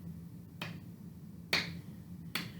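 Three sharp, isolated hand claps or snaps land about a second apart, crisp and close over a low background hum, with no voices.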